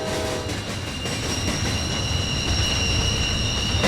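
A long container freight train rumbles steadily past near Jacksonville, Florida, wheels squealing and rail joints clicking under a continuous heavy roar.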